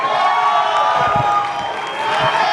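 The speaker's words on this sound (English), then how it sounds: "A lot of love, as expected, from the Texas crowd." A Texas crowd at a Jake Paul vs Nate Diaz press conference cheering and whooping, a sustained loud wash of voices filling the room.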